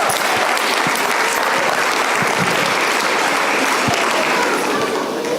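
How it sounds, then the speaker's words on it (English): An audience gives a big round of applause at a presentation event; continuous, even clapping from a full room lasts throughout. "that's a big round of applause"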